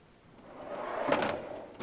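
A drawer on a Snap-on KRL1033 tool box slides along its runners, a soft rolling rush that builds and then ends in a brief clattery knock as it stops.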